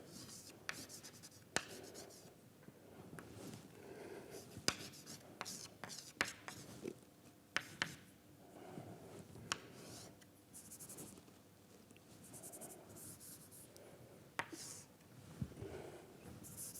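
Chalk or marker taps and scratches on a board during a lecture, arriving in short irregular strokes under a quiet room, with soft speech now and then.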